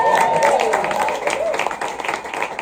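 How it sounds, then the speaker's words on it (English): Crowd applause for comedian Shane Nelson at an outdoor show on Moku Roots Farm, Maui: a steady wash of clapping that thins toward the end, with a voice speaking over it at the start. "Round of applause for Shane."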